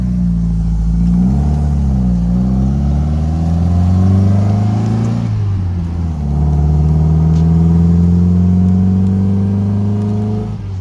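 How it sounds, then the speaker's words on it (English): A 1969 Datsun 2000 Roadster is driven, and its engine holds a steady, close, full-bodied drone. The pitch climbs and dips with revs, and there are clear gear changes near the start and middle. No one talks. "We're going to take a little drive here in this DATSUN 2000 Roadster."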